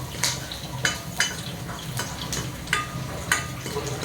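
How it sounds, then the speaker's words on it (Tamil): Peeled garlic cloves sauté in a hot pan, a soft continuous sizzle broken by sharp, regular scrapes and clinks of a spoon stirring against the metal, close by and without talk. "இது மாதிரி நல்லா வதக்கி விடுங்க நல்லா வறுக்கட்டும்"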